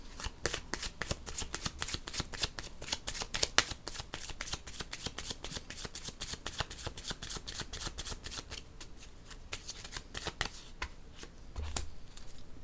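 Close, soft riffling of a tarot deck shuffled continuously by hand, a dense run of quick papery flicks and taps with a few slight pauses, no voices.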